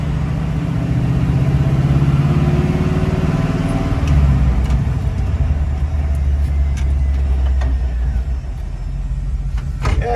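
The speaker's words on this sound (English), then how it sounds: "one thing I noticed is how smooth the engine is, especially at higher RPMs" A 1967 Chevrolet C50 truck with a swapped 5.3 LS V8 drives along, its engine droning loud and close, pitch shifting as it works through the revs, with road and wind noise underneath.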